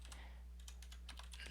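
Quick, light keystrokes on a computer keyboard, several soft clicks in an uneven rhythm, close and faint over a low steady hum.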